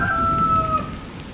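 A cartoon ghost chicken gives a frightening crowing call, a single loud tonal cry under a second that bends and fades over background noise.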